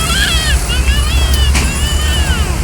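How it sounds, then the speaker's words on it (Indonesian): Dense night road traffic with many heavy trucks, expedition freight haulers from Java, rumbling steadily near Macanundungan on the way into Palembang, a continuous loud low roar with a hiss of tires and a brief high squeal, under a voice speaking. "hari ini terpantau situasi lalu lintas di Macanundungan dipadati oleh truk-truk bertonase besar"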